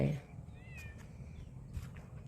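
A cat meows once, a thin rising-and-falling cry heard faintly at some distance outdoors in the evening, over low background rumble and a few soft knocks.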